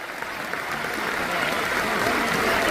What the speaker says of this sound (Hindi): एक बार जोरदार तालियां जाऊंगा पापा के लिए